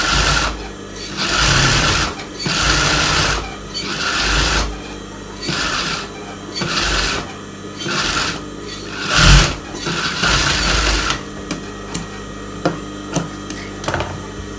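A sewing machine stitches a blouse lining in repeated bursts of fast mechanical whirring separated by short pauses, loud and close, followed by a few light clicks and handling sounds.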